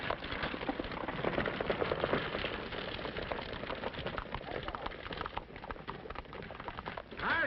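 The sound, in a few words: horse hooves clip-clopping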